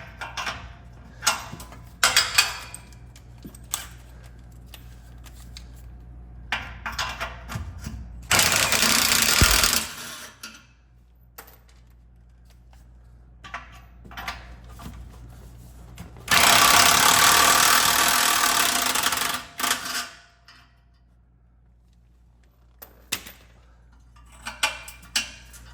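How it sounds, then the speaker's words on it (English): An impact wrench loosens exhaust bolts on a Dodge Challenger in two loud sustained bursts, separated by clinks and handling noises of tools and metal parts. "Once you get them loose, you can use an impact."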